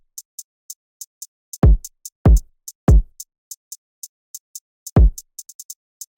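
Basic drill hi-hat bounce of crisp ticking hats with quick rolls, joined by four heavy, booming kick drum hits at irregular spots, clean and alone.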